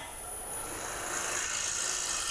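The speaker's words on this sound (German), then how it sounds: "Deswegen nehme ich wieder meine Schaber mit Negativwinkel zur Hand." Wood turning on a lathe, a negative-rake scraper held against a square bowl blank, giving a steady dense rasping hiss that stays loud and continuous throughout.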